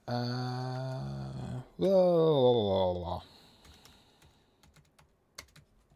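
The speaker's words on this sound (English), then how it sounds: "Let me type this properly." Typing on a computer keyboard follows a loud drawn-out voice, leaving a scattered series of soft, close key clicks and taps.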